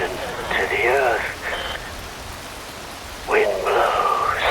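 Steady rain pours in a cutscene from the video game Metal Gear Rising: Revengeance, a dense, even hiss running throughout, with two vocal passages rising over it.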